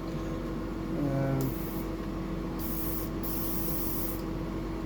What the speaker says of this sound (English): And always cleaning the airbrush.